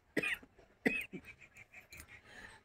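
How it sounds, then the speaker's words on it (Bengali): A woman with an itchy, irritated throat coughs in two sharp, close bursts, followed by softer rough throat sounds and breathy noises at home. "এতটা কাশি হয়েছে।"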